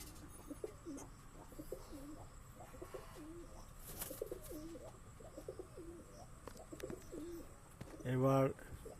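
Male and female Giribaz high-flying pigeons giving a run of low, rolling coos in quick repeated phrases, moderately faint, with a short louder burst of noise near the end.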